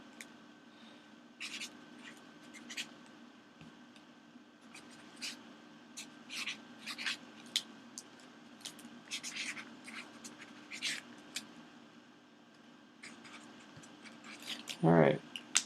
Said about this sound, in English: So I am writing it down.